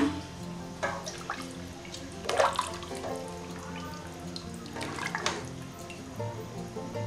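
About three glasses of water pour into a cooking pot holding a stock cube and fish stew, a steady close splashing and trickling with brief rises in the gushing, without talk.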